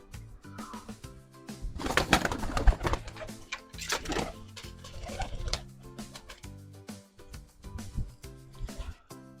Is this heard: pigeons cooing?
yes